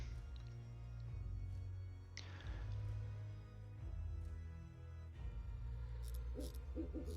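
Owl in the card game MTG Arena, giving low soft hoots against a quiet ambient background, with a few faint chimes near the end.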